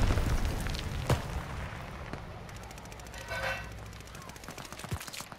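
Automatic gunfire rattles in bursts during a Call of Duty: Vanguard match, with sharp, loud shots standing out above a busy in-game backdrop, then a lull broken by a few more cracks.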